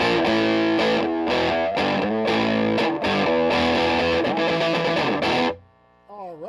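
Electric guitar played through an Alameda Guitars Angry Hornet fuzz pedal in its low boosted setting, loud and saturated chords with thick sustain for about five seconds, then cutting off to a brief quieter tail of a bending note.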